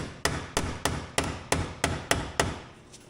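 A hammer bangs a factory plug into place with eight sharp, evenly spaced metallic strikes, close and loud, each followed by a short ring, with no talking.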